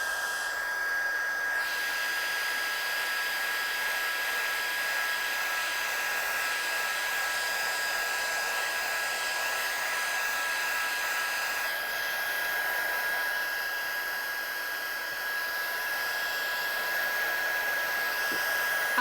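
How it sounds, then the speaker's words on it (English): A hair dryer blows steadily on a handmade one-layer card, a constant close whine with an even airy rush that holds unchanged for the whole stretch. "let's just dry this one off"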